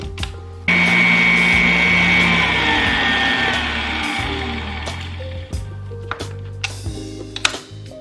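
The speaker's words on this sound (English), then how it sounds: "I've been mixing now for about 2 or 3 minutes, and now I'm going to continue to mix" An electric mixer creaming butter and sugar for a strawberry cream cheese pound cake whirs loudly and steadily, then its pitch shifts and it runs on more unevenly, with clinks and taps toward the end.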